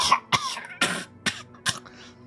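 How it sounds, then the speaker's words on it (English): A drunk man in the Disco Elysium video game hacks out a harsh, wet cough in five rough bursts spaced about a third of a second apart, close and unaccompanied. "The drunk man starts coughing a really disgusting hacking cough."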